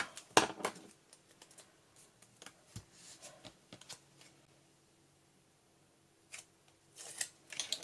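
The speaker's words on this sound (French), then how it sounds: "Des petits ciseaux." Small, crisp snips and paper rustles come in short scattered bursts close by, separated by quiet pauses, with a final cluster of snipping at the end.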